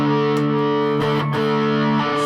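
Electric guitar with a bridge humbucker played through heavy distortion, sustained chords ringing loud and thick for a couple of seconds, with brief changes between strums and no talk.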